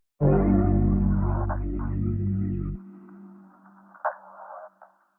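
Bandpass-filtered percussion loop from an Only One Kits sample pack, a dense pumping rhythmic texture that drops away partway through and leaves a thinner, filtered tail with a couple of brief hits, played alone.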